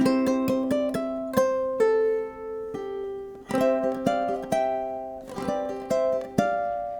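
A fingerpicked ukulele melody plays alone, close up, with plucked single notes and occasional fuller chord strikes at a relaxed, uneven pace.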